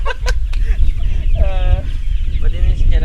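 Broiler chickens cluck inside a coop, close and continuous, with a drawn-out call rising mid-stretch and a steady low rumble beneath; a voice speaks intermittently among them.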